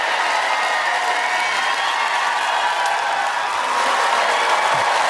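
Loud, dense applause and cheering from the crowd at the Ninja Warrior UK course finish as the race ends, a continuous wash of clapping held at full strength throughout with no talk.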